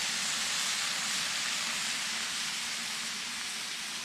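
Onions sizzle on a Blackstone griddle as a soft, steady, even hiss that stays constant throughout and carries no voices.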